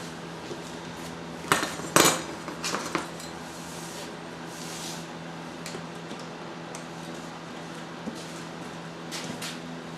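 Clamps being fitted onto a wooden batten during boat building give a few sharp metallic clicks and clatters near the start, then quieter scattered taps over a steady background hum, close but fairly soft.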